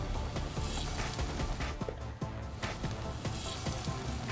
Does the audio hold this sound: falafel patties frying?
yes